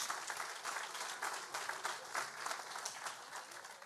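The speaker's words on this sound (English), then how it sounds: "round of applause" A crowd applauds at a ceremony marking 50 years since the last Cuyahoga River fire, with steady, fairly faint clapping spread evenly across the room.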